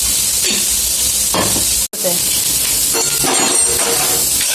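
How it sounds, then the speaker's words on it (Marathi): Grated coconut fries in oil alongside onion, a loud crackling sizzle with scraping stir strokes and a brief clink, broken by a momentary cut near the middle. "आता यात मी खोबरं पण टाकणार आहे. म्हणजे छान फ्राय होते"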